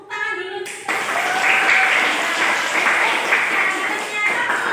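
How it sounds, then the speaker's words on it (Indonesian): A classroom group applauds, a steady wash of clapping that starts after a short opening sound and continues evenly throughout. "Tepuk tangan dulu."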